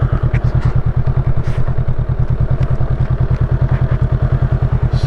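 A Honda Rebel 500 motorcycle idles with a new aftermarket exhaust, putting out a loud, close, steady low-pitched thumping pulse with a rapid even rhythm and light mechanical clatter over the top.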